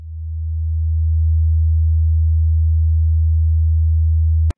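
Two offset sine waves played on the left and right channels to draw a circle on an oscilloscope: one steady, loud, low pure tone that fades in and holds unchanged for several seconds, then cuts off abruptly.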